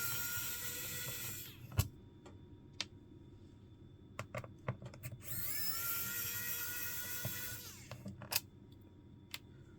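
A small electric screwdriver runs in two long whirring bursts on an MSI Pulse GL76 laptop as the screws come out, with sharp clicks and taps of handling between them; no one speaks.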